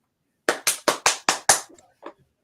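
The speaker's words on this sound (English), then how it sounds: "You clapping." Six sharp hand claps in quick, even succession ring out up close and loud, followed by a few softer scattered claps that trail off.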